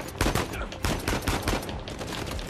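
Dense, rapid gunfire fills a combat encounter in the Uncharted 4: A Thief's End video game, with loud, close bursts of shots repeating in quick succession throughout.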